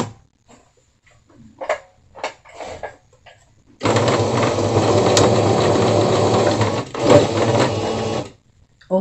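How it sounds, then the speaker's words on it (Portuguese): After a few quiet handling clicks, a sewing machine stitches fabric for a hexagon-shaped basket in one loud, continuous, close run of about four seconds before stopping. "Vou puxar essa agulha um pouco pra direita e vou costurar"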